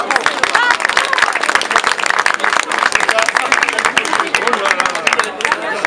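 A studio audience at a televised cooking contest claps loudly and vigorously, many sharp overlapping hand claps mixed with crowd murmur and some cheering babble throughout.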